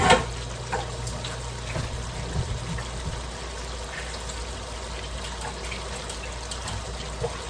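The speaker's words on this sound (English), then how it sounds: "Drain the mushrooms, I'm going to drain these." Liquid from canned mushrooms drains out in a steady, fairly quiet trickling pour that continues evenly for several seconds, with no talking.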